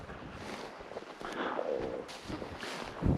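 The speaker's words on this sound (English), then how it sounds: "we're supposed to have some pretty solid wind blowing all day long" Steady wind rushes and buffets the microphone outdoors on a grouse hunt, a broad continuous roar with a few gusty swells and a soft thump near the end.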